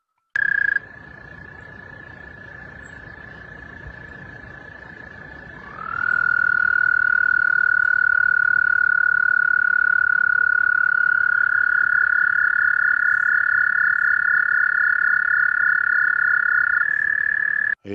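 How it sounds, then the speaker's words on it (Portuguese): A singing frog croaks as recorded audio played back through a computer, one continuous loud droning tone that holds steady for about eighteen seconds and shifts pitch slightly partway through, with no voices. "Esse é o famoso sapo cantante."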